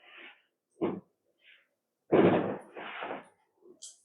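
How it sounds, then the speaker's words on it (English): Fireworks go off outside, heard indoors as a scattered series of short muffled bangs and crackles at irregular intervals, moderately distant, with quiet gaps between bursts and no talking. "A lot of fireworks gone on outside"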